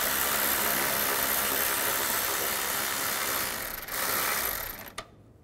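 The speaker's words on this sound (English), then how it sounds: "Use a 10mm socket." A ratchet with a 10mm socket removes bolts on a 2007-2013 Mini Cooper S during turbocharger replacement, a dense continuous clicking-whirring that runs nearly five seconds before stopping abruptly.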